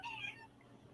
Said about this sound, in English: The cat is being annoying.